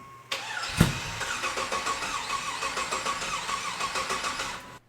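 An LS-swapped Cutlass engine with a fuel system issue cranks with a sharp catch and fires up, then runs at a steady, rough idle close by until it cuts off.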